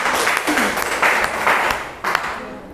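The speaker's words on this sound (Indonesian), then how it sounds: "Tepuk tangan teman-teman untuk Bu Taryumi." A group of teachers or participants at a school training session claps for a colleague, a brisk, full round of applause lasting nearly three seconds at close range.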